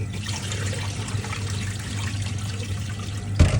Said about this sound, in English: I'm washing my rice now.